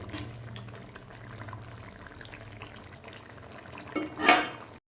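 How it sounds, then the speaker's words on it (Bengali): Tengra fish curry with potato and tomato simmers in a pan, a low bubbling under faint clinks of utensils, followed by a louder metallic clatter of the pot just before it cuts off; no speech. "প্রায় দু মিনিট ফুটে গেছে তরকারিটা"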